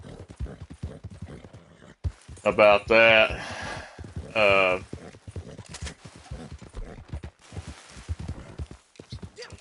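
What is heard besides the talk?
horse riding hoofbeats in video game Red Dead Redemption 2 Online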